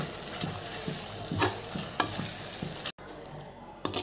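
Semiya kesari with cashews and raisins being stirred in a pan, a soft steady sizzle under rhythmic scraping strokes of a spoon, close, with a brief cut of silence partway through.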